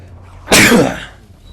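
A single sharp sneeze bursts out close to the microphone, loud and brief, fading quickly into quiet.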